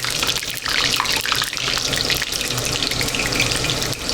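Floured pieces of meat for marsala frying in hot oil in a pan, spitting and crackling steadily with a dense, close sizzle that stays loud throughout.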